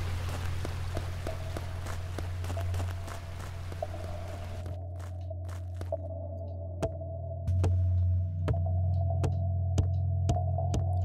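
Footsteps of a character jumping on hollow rock in the video game Lost Ruins, a series of sharp hollow knocks at irregular intervals over a constant low game hum.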